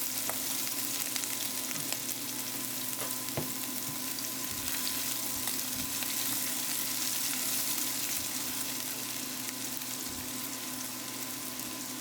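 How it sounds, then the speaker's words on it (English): Garlic sautés in a hot pan for pad see ew, a dense, continuous sizzle with occasional faint ticks and pops, steady and close throughout with no speech. "I'll go ahead and toss in my garlic. Let this saute for a few seconds."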